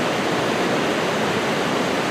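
Hurricane Creek in the Eagle Cap wilderness rushes nearby in a steady, loud broadband wash of churning water, constant and unbroken, with no voices.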